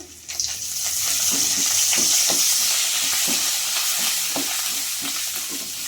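Curry leaves and lentils tempering in hot oil for a yogurt vada dish, a loud, close, continuous hiss and sizzle with a spoon scraping and stirring the pan in a regular rhythm, no speech.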